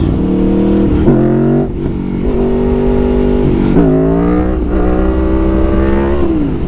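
A motorcycle held in second gear revs hard and climbs in pitch for a beginner's power wheelie, the engine loud and close with repeated throttle surges and brief dips between pulls.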